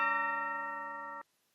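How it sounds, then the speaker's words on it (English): A timpani bell tone in a music production rings as a single sustained, bright metallic note that holds steadily and then cuts off abruptly, with nothing else around it. "And finally, the timpani bell."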